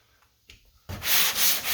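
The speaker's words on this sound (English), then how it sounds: "That's why I'm sanding this way and sanding this way, trying to get that line straight." Hand sanding of Bondo body filler along a car body line: after a quiet moment, loud close rasping strokes begin and continue in a steady back-and-forth rhythm.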